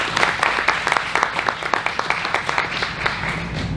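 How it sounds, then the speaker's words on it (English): Applause from a modest audience at a community gathering, with distinct individual claps standing out over a thinner wash, steady and fairly close for several seconds. "Please join me in a round of applause to say thank you."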